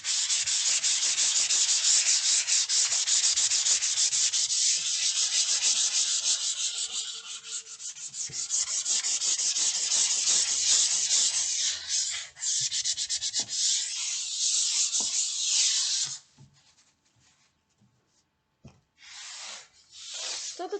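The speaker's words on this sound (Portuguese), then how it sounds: "Lixa rapidinho, coisinha simples." 320-grit sandpaper rubbed back and forth over MDF, a steady close, loud scratchy hiss with fast rhythmic strokes that stops near the end, leaving a few short rubs.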